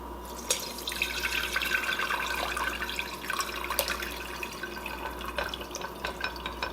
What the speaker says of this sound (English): Now we're going to want to drain the broth off.